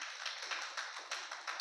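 A church congregation clapping in rhythm, a fairly steady train of palm claps repeating every few tenths of a second, moderately loud and with no talk over it.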